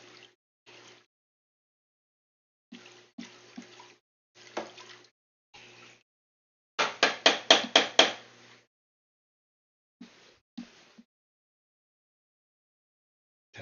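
A stir stick swishing salt into water, heard as a few short, close splashy strokes separated by quiet gaps, then a quick run of about six louder rhythmic sloshes, followed by a couple of softer taps near the end.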